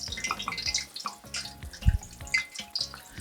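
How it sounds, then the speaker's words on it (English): Ndengu samosas fry in hot oil, bubbling and crackling in uneven bursts of sizzle, close and fairly loud, with faint background music underneath. "when it starts bubbling like that, it's also an indication that the oil is hot enough"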